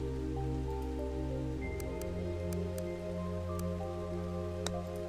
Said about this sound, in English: occasionally pausing to watch the thin rain fall.